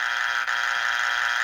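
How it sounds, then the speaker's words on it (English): A single harsh, flat buzz sounds loudly for about a second and a half, then cuts off abruptly: the 1988 Family Feud wrong-answer strike buzzer. "Oh, the buzzer."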